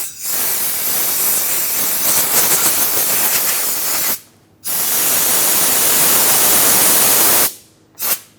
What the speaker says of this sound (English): If you have compressed air, blow it off.